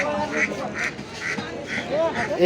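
Ducks quack repeatedly in bursts at a busy poultry market where ducks and pigeons are sold, close and fairly loud, with people talking underneath.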